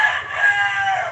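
A rooster crows loudly and close by in one sustained, strained call.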